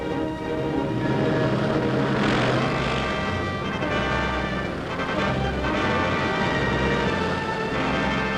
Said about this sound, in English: These squadrons are leaving for the front, the great air front over Western Europe.